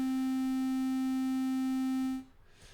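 A square-wave synthesizer tone sounding middle C in Reaper, one steady buzzy held note for about two seconds before it cuts off into near silence.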